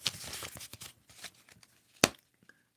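Handmade oracle card deck being shuffled close up, soft papery riffles and slides in a short flurry, then a pause and one sharper burst of card noise, quiet overall with no talking.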